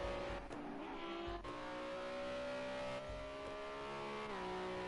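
A GT Junior UK championship race car nears the finish line at the Scottish GP, its engine droning loudly with revving harmonic pitch shifts and brief dips between gears.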